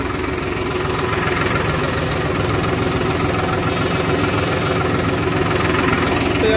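A diesel tractor engine runs steadily at idle, a loud, continuous low chugging rumble with vibration and no pauses.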